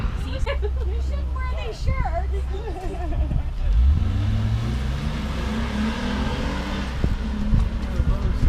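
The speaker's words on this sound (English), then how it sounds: "I just drove the IS 350 F Sport" Lexus IS 350 F Sport on a racetrack at a performance driving school: engine revving and climbing steadily in pitch as the car accelerates, heard with people talking over it throughout.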